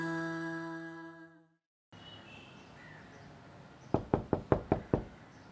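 In a drama scene, music fades out to quiet room ambience, then six quick, sharp knocks land on a door in an even run, close and crisp.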